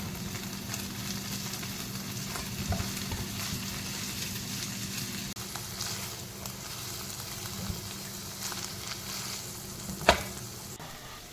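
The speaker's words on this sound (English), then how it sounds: "Now we're gonna saute all the vegetables" Vegetables saute in a pan with a soft, continuous sizzle and occasional light stirring over a low hum, capped by one sharp clink near the end, no voices.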